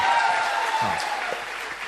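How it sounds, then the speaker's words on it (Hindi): Audience applause at a televised Chhattisgarh development program with Congress and BJP spokespeople, a steady wash of clapping sustained through the short stretch with a faint tonal hum underneath. "आपके लिए एक बार और तालियां चाहता हूं प्लीज"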